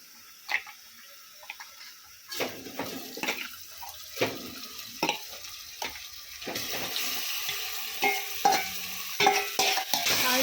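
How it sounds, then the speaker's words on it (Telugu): Marinated mutton frying with browned onions in a pot while being stirred, bursts of sizzling and scraping that grow louder and more continuous toward the end. "ఇప్పుడు మనం మ్యాగ్నేట్ చేసి పెట్టుకున్న మటన్ అయితే ఇందులో వేస్తుంది"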